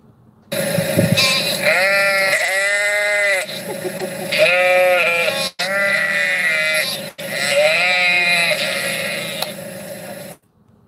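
Sheep bleat loudly and close in a series of long wavering calls, several overlapping bleats with brief pauses between them and no talk.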